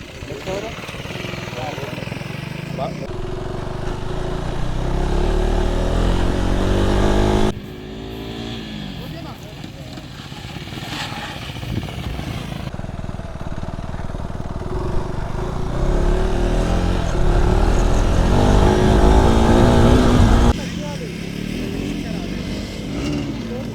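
KTM Adventure 390 motorcycle ridden hard on an off-road track, its engine droning and revving steadily throughout with loud surges and shifts, while a rider talks over it.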